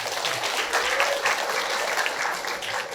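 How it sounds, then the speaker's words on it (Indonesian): An audience at a motivational work-ethic seminar claps steadily in a dense, even round of applause. "Dari aplaus buat Anda semua."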